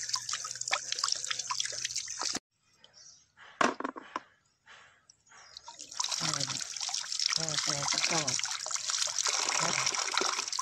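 Crabs being washed clean in water for a Malvani-style crab curry, with splashing and trickling water in bursts, a quiet gap, then steady running and sloshing water close by.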